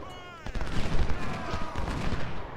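Video game battle in Ultimate General: Civil War with close, crackling volleys of rifle fire in rapid overlapping bursts, briefly loud and dense, with someone talking over it.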